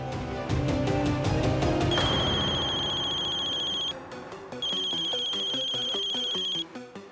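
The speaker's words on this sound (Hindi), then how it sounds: "अम्मा का फोन।" A phone ringtone plays steadily, a bright repeating melodic tone that rings loud and close, pausing briefly before resuming.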